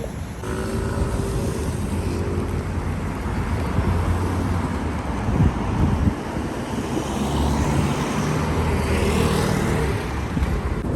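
Steady car road noise and engine rumble with wind buffeting while driving home after shopping, continuous and fairly loud throughout with no talking.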